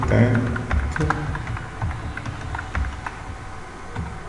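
Irregular keystrokes on a computer keyboard as code is typed, the clicks close and fairly sharp, with a low murmur underneath.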